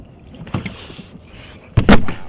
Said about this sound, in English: that is a monster bull red. A monster. Listen to him pound it.